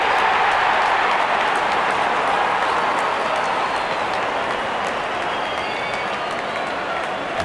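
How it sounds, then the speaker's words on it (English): A big crowd at a cricket match cheers and applauds steadily as the opening batsmen walk out, a dense continuous roar of clapping with no break. "Out come the openers, cheered by a good crowd in."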